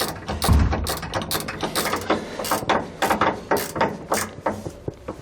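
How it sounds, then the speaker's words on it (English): A 9/16 wrench ratchets bolts tight while fitting SumoSprings Rebel helper springs on a 2018 Winnebago, giving a close series of sharp metallic clicks in quick, uneven bursts of strokes. "we'll take a 9/16 wrench, and we're going to tighten those into place."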